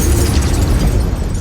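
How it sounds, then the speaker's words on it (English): A huge explosion from the animated series Arcane roars as a loud, dense, sustained blast rumble that fills the whole moment with heavy low booming and crackling debris. "Explosion. Yeah, definitely."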